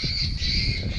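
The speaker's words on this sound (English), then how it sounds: "that's that bird squawker that you hear in the background" An electronic bird-scare squawker sounds steadily in the background of a cattle yard, a continuous harsh, bird-like squawking tone that persists through the whole moment without speech.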